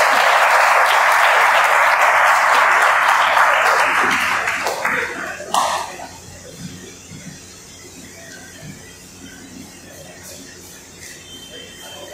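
Audience applause at an event for assistant physics professors, loud and dense for about five seconds before fading into scattered claps and a quiet room.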